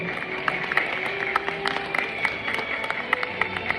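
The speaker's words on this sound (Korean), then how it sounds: "다시 한번 힘찬 박수 부탁드릴게요" Wedding guests clap together in a hall, a moderate burst of applause with crisp hand claps standing out over crowd murmur.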